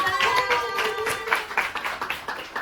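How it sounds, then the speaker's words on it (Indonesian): A small group claps, a brief round of applause with a few faint voices mixed in. "Tepuk tangan buat Lisa."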